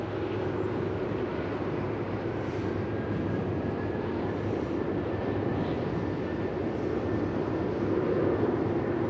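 A Virgin Australia Velocity airliner at Melbourne Airport gives off a steady, broad distant jet rumble that holds level throughout, with no voices.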